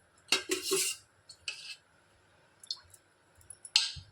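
Metal ladle clinking against a kadhai on a gas stove as three small ladlefuls of oil go in: a few short, bright clanks in separate bursts, fairly close, with quiet gaps and no talking.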